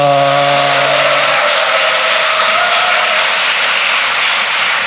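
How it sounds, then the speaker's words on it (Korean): A church congregation at a Baptist prayer meeting breaks into loud, dense applause. A sustained keyboard-like chord rings briefly at the start and fades, leaving a continuous wash of clapping. "우리 박수 하겠습니다."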